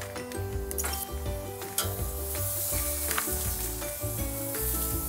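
Marinated food sizzles on a hot grill at about 450 degrees, a loud, steady crackle that carries on without a break, with occasional light clinks and scrapes over it.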